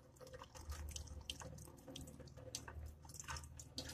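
A water jet rinses vinyl masking off engraved glass, a steady close hiss of running, splashing water with scattered drips and no talking.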